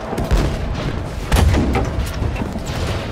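Enemy fire in Battlefield 5 around a tank battle: dense, rumbling booms and shots thudding continuously, with two heavier impacts standing out in the steady roar.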